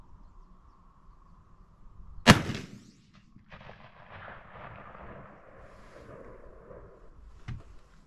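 A single sharp, heavy gunshot from a .500 Linebaugh revolver cracks out loudly outdoors, then rolls away in a long echoing tail, with a faint distant thump near the end.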